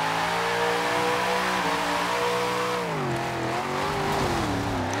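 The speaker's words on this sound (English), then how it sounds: "That's a burnout." A 1969 Dodge Charger Daytona in Forza Horizon 4 holds a loud, continuous burnout, its engine droning steadily with rising and falling pitch as the rear tyres spin and screech, with no talk over it.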